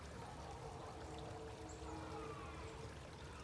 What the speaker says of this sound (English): Always like to see that water running.